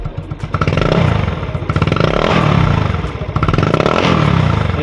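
Motorcycle fitted with an Organ Sport V5 chicken pipe exhaust revs close by in repeated loud surges, each rise and fall carrying a rough, rattly exhaust note.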